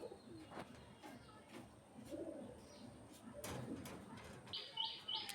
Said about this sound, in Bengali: ঘুঘু অস্ট্রেলিয়ান চুইটাইল ঘুঘু